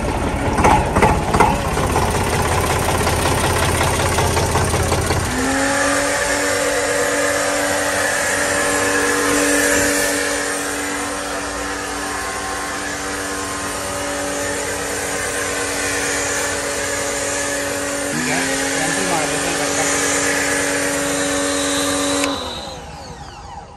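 A Kapicon KP 40 pressure washer sprays a Mahindra or Eicher tractor, its motor droning steadily and loudly for over twenty seconds, the pitch shifting as the spray starts and stops, before it cuts off.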